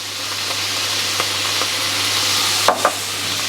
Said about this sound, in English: And give that a good stir around.